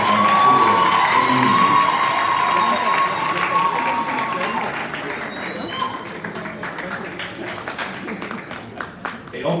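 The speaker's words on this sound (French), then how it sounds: "est-ce qu'on peut applaudir très fort s'il vous plaît?" Audience at a ceremony applauding loudly with cheers and shouts, a dense roar of clapping and crowd voices that gradually thins into scattered individual claps by the end.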